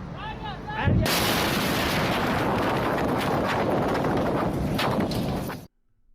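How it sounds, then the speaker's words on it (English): A sudden massive explosion at a military port erupts after a brief moment of faint voices, followed by a sustained roaring rumble that ends abruptly. "Huge blast, huge shockwave. Look at that explosion."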